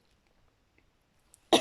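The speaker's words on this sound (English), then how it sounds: "Suddenly I'm coughing." A single short, sharp cough bursts out near the end after near silence, close and fairly loud.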